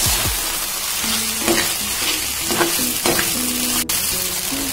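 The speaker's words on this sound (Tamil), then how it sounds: "ஒரு வாட்டி இது கூட நல்லா மிக்ஸ் பண்ணிடலாம்" Fried cabbage Manchurian, street-style gobi type, tossed in a hot pan: a bright frying sizzle runs throughout while a spatula scrapes and clanks in repeated strokes, close and loud, with no talk.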